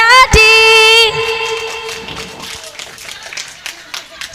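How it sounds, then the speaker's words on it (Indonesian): A burst of children's clapping for Kak Adi at an SDN Manduro 2 school Ramadan event, a short lively patter after a loud electronic tone, fading into scattered taps and chatter. "Tepuk tangannya mana buat Kak Adi?"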